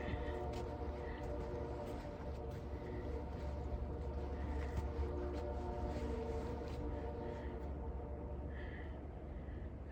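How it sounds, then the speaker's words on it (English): Trains pass near a train yard at night, heard as a steady, distant low rumble with a droning hum that holds constant throughout, faint and continuous with no voices. "all night long, man, those trains are a thing"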